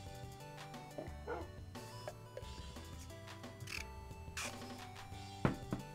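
A Minecraft dog barks and yips repeatedly in short, fairly clear bursts over steady game music, with a sharper bark near the end.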